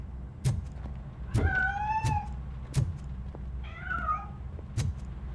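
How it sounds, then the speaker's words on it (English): Cat meowing in the RoboCop Rogue City video game, two drawn-out mid-pitched meows about two seconds apart over a low steady game ambience with occasional soft thumps. "That cat must be hiding inside."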